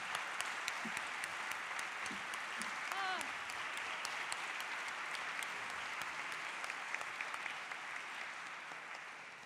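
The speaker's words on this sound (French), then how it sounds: "J'aimerais y faire une bonne main d'applaudissements" Steady audience applause for M. Gaudreau at a 150th anniversary celebration in Richelieu, sustained clapping from a crowd with brief vocal sounds rising above it early on.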